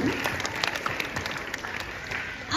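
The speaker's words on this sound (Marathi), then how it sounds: "त्यांची आपण आभार मानूया टाळ्या वाजवून" A crowd at a school Independence Day celebration breaks into steady, dense applause that carries on for the whole moment, with a few voices faintly mixed in.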